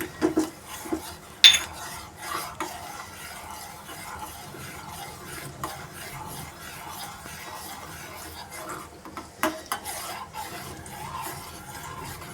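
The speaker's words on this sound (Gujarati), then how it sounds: "પૌવાને બરોબર હલાવવાના પછી આપણે એની અંદર ખાંડ નાખીશું" Poha is stirred with sugar in milk, giving soft, quiet scraping and swishing of a spoon against the pot with a few sharper clinks. The sound is gentle and close, with no talking.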